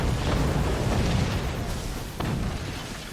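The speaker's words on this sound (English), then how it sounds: "Uh-oh. Incendiary nuke." A huge incendiary nuke detonates in a video game, giving a loud, sustained roar of rumbling blast and fire that fills the whole moment and slowly fades, with no talk over it.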